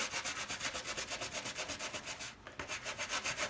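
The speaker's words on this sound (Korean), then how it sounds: "프리미엄 솔 있죠? 물에 묻혀서 이렇게 거품이 나게" A shoe is scrubbed in a bathroom with a premium brush dipped in water to work up foam, giving fast, even back-and-forth bristle strokes at close range with a brief pause near the end.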